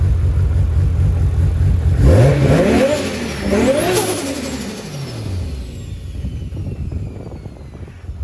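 An engine revs up sharply and then falls back, a loud rising and falling whine over a steady rumble, with no voices.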